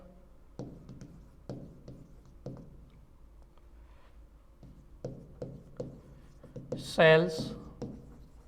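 Marker or chalk on a classroom board taps and scratches in short bursts while a teacher writes out a question, with a voice speaking over the strokes near the end.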